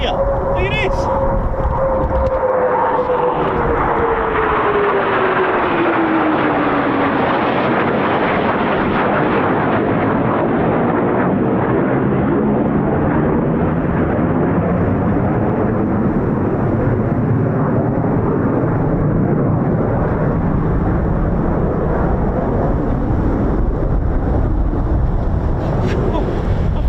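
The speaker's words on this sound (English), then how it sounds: "Oh, look at this, F-15's right here." F-15 fighter jets roar close overhead, a loud continuous rushing jet noise with a descending whine early on, dominating throughout amid wind buffeting on the microphone near RAF Lakenheath.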